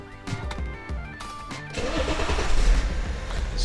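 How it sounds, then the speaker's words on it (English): BMW X5 35d diesel engine cranking and firing up after a fuel filter change, with a few clicks and clunks before the starter engages, then a stuttering catch that settles into a rising, rumbling idle. "All right, so we're gonna start it up now."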